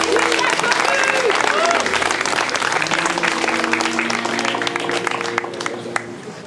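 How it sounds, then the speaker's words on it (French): Sustained audience applause at a Paris Commune 150th anniversary event after a sung performance, loud and dense throughout and fading slightly near the end, with voices and some sustained tones mixed in. "Vous pouvez les applaudir."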